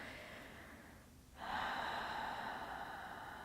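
A single breath drawn in through the nose and let out through the mouth during a guided meditation, soft and close, with no talking.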